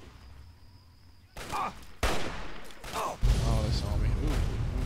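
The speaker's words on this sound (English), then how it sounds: "big explosion." Loud gunfire and a big blast in a firefight with an enemy on a watchtower in the video game Fallout 3, several sharp bursts stacking into sustained rumbling noise while someone speaks over the action.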